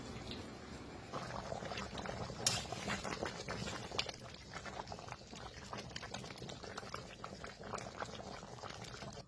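Water goes into a chicken roast simmering in a pan with cow's milk, sugar and green chilies, giving a faint, steady bubbling and sizzling with scattered soft pops throughout.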